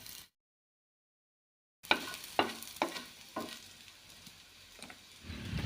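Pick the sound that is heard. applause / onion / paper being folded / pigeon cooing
onion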